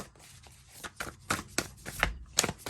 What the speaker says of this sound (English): why am I still shuffling these cards?